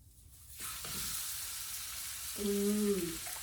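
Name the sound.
steak frying in sunflower oil on a grill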